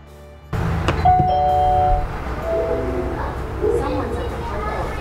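A doorbell chime, from a Nest Hello or Ring Doorbell Pro, rings at the front door. Clear tones sound for about a second, then people talk over faint background traffic.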